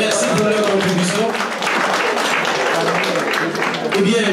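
Applause from guests at a dinner dance celebration, a dense steady wash of clapping heard close, with voices mixed in throughout.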